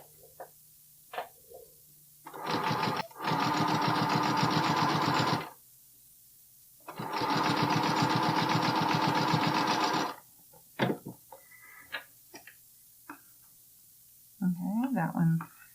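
A home sewing machine stitches lace for a bralette in two bursts of rapid, steady whirring, separated by pauses filled with quiet handling clicks and rustles, and a brief voice at the end.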